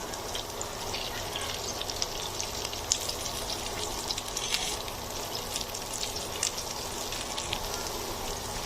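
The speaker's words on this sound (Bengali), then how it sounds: "এই কাবাবটা আমি লো হিটে ভাজবো আস্তে আস্তে করে।" Tawa kebabs fry slowly on low heat in a flat pan. A soft, continuous crackling sizzle with small pops runs evenly throughout, with no voices.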